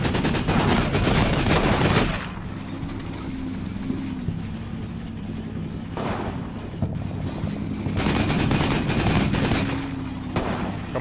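Battlefield gunfire in the Combat Mission war game, two loud sustained bursts of rattling shots with a quieter rumbling stretch between them.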